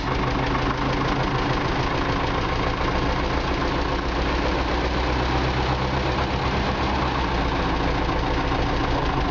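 A YuMZ tractor engine that needs repair runs at full throttle while smoking, giving a loud, steady, rough diesel drone with a heavy knocking pulse that stays constant throughout, close up, with no one speaking.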